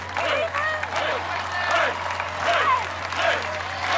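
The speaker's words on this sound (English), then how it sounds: "And the crowd is yelling Craver." A crowd at the American Ninja Warrior Season 7 Orlando finals applauds and yells for competitor Crazy Craver, loud, steady and close, with swelling bursts of cheering throughout.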